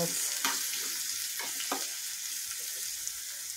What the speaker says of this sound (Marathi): ठेचून घेतलेलं लसूण, थोडासा हिंग घालूया। अतिशय सुंदर अशी फोडणी होते मस्त।